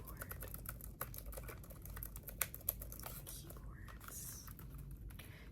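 Soft, rapid keyboard typing with irregular clicks and a couple of sharper key taps, heard quietly up close against a faint background hiss.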